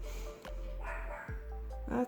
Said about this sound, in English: I apologize if you can hear my dogs in the background.